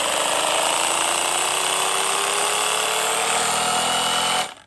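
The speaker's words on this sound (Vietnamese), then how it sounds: "Đỡ cho khi mà anh em muốn khoan vào gạch á thì nó không có bị" A Bosch GBH18V-26 cordless rotary hammer drilling into brick, a loud, steady close-up hammering whine with a slowly rising motor tone that holds for over four seconds before abruptly cutting off, no talking.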